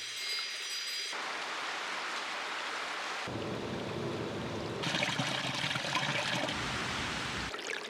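Synthesized water-like noise from the noise engine of the Arturia Pigments 4 software synth, a steady broadband wash that shifts in texture and layering partway through, continuous with no talking.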